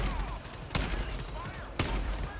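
Gunfire in the GTFO video game, two sharp loud shots cracking about a second apart over a dense, noisy in-game background with some talking.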